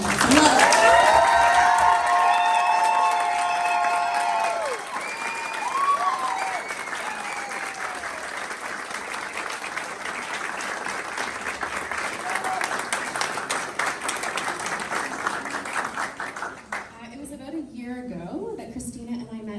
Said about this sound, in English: one more round of applause for Christina.